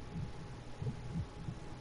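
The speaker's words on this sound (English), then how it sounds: "getting a heartbeat again" Heartbeat in the video game The Quiet Man, a faint low double thump repeating a few times over a soft background hum, with no talking.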